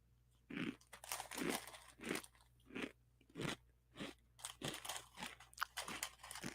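Crunchy spicy ramen snack with peppers being bitten and chewed close to the microphone, about a dozen sharp crunches in an irregular rhythm with brief pauses between bites.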